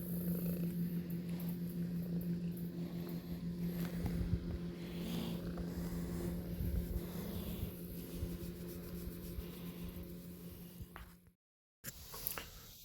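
A cat purrs in a steady, low rumble close by for several seconds, fading briefly into silence near the end before resuming.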